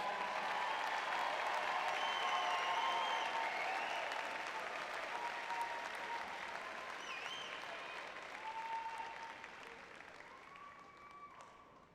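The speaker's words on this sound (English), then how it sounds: "Let's have a round of applause for all of our graduates tonight." An audience at a UCLA student-athlete graduation ceremony applauds the graduates, a sustained wash of clapping that starts full and slowly fades, with a few faint cheers and a voice over it.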